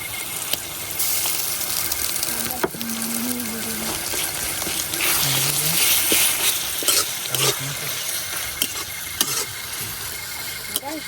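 Onion, ginger and garlic fry in a pan with a steady, bright sizzle. A spoon scrapes and stirs through the mix now and then, with occasional clinks and brief faint hums running underneath.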